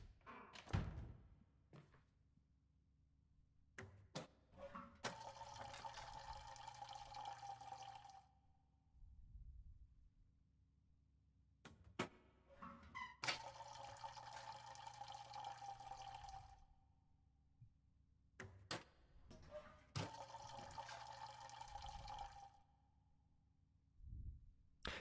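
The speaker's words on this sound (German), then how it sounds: "Das ist aber eine sehr klimafreundliche Klospülung." A toilet flushing in the video game Layers of Fear 2, three separate rushing water surges of a few seconds each, split by quiet gaps with soft knocks and clunks, heard alone.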